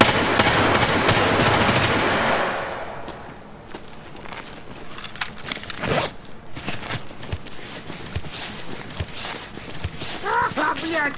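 Shotgun fire in Escape from Tarkov: a scattering of sharp blasts and clattering impacts over busy game ambience, with shuffling movement noises in between.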